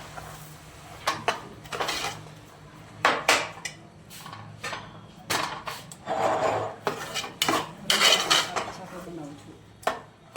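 A spoon clinks and scrapes against a pot as sugar goes into milk for carrot halwa, in irregular metallic taps and rubs over a faint background hum.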